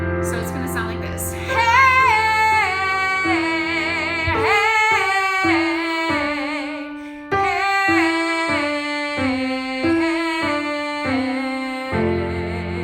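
A sung vocal riff exercise in which the voice runs through quick four-note descending falls, repeated several times in a steady, legato line, close and clear with no talking.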